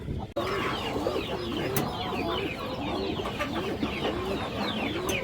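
Many pigeons, including Chila, Kaldom and Musuldom breeds kept for sale, coo repeatedly in overlapping calls, a dense nearby chorus in a crowded loft.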